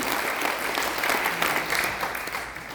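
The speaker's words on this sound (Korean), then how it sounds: "여기에 아직도 입원해 있는 이분들에게 큰 박수 한번 해주시기 바랍니다" An audience at a national elders' rally for freedom and unification gives big applause for hospitalized marine veterans, a brief, even burst of many hands clapping that stays at a moderate level with no voices over it.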